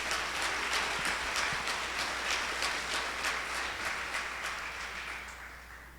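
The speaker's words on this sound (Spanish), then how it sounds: "Denle un aplauso," A church congregation claps together in a steady, fairly quiet patter that sounds slightly distant, holding evenly for several seconds before softening toward the end.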